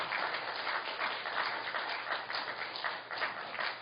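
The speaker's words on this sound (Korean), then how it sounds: "여러분 큰 박수 한번 부탁드립니다" A congregation at a Sunday church service gives a warm round of applause, steady, moderately quiet clapping that continues evenly from start to finish without speech.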